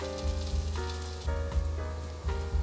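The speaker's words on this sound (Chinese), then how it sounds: "锅内放入适量的油，油热了，把面肠放进来煎。" Wheat gluten sausages fry in hot olive oil in a pan, giving a steady crackling sizzle that swells and eases slightly, heard close with a low tonal hum beneath.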